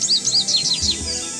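An American goldfinch song from the Nancy Drew video game: a quick series of high, bright twittering chirps, loud and close, fading into soft background ambience with no talk.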